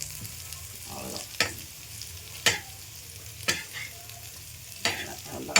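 Paneer fries in a pan with a soft continuous sizzle, broken by sharp scraping strokes of a spatula about once a second as it is stirred, close and clear with no talking.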